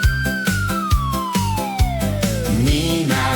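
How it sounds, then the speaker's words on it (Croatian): A fire engine siren wails in one long falling tone over a bouncy rhythmic music beat, loud and close, with no one speaking. "sirena se čuje."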